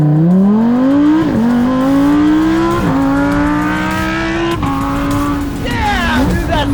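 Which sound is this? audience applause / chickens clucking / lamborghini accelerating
lamborghini accelerating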